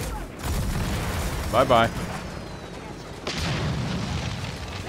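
Rocket explosions from the video game Gears of War boom over a steady low rumble of in-game ambience, with one burst near the middle and another later, while a player's voice speaks briefly.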